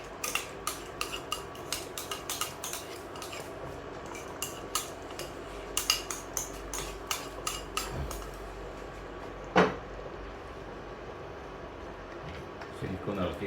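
A spoon scrapes and clinks against a pot while chicken curry is stirred after ground cashew paste is added, with quick irregular metallic taps close by and a person talking in the background.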